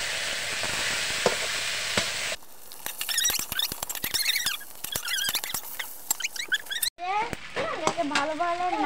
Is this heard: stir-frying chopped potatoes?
yes